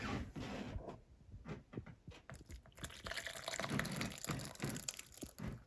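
Liquid poured into a hollowed bread bowl, a faint, close run of splashes and drips, sparse at first and then a denser pour, with no talk.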